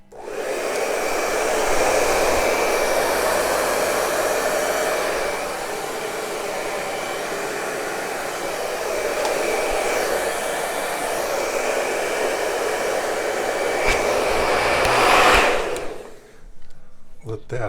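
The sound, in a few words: air blown over acrylic paint pour, likely hair dryer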